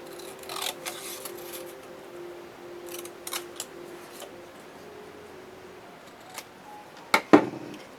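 Scissors snip around a card sentiment matted on black cardstock, a few quiet, scattered clicks and cuts in a calm room with a sharper snip near the end.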